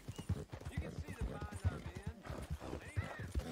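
Horse hooves clip-clop in a steady, rhythmic trot in a video game, with a whinny mixed in, fairly close and continuous throughout.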